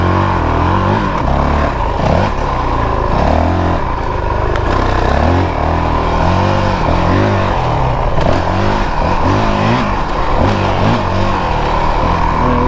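A 2022 Honda CRF450RL dual sport motorcycle rides offroad, its single-cylinder engine loud and close, throttle rising and falling in repeated revs and blipped downshifts over constant wind and clatter.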